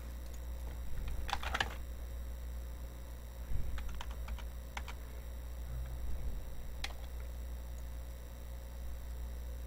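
Several sharp key presses on a computer keyboard while text is being edited, clicking in small bursts against a steady low hum.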